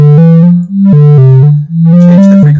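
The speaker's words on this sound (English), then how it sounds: "And there you have it, the beating effect" A loud synthetic tone generated in Sound Sorcerer plays as a simple stepped melody, its pitch shifting between notes while a pulsing beating effect swells and fades three times, with no voices.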